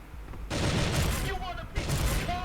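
Bursts of rapid gunfire from the mobile FPS game Elite Strike, two sustained volleys of shots, loud and close.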